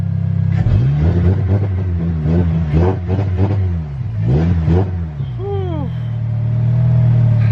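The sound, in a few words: Polaris off-road vehicle engine running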